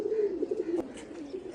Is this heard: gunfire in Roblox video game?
no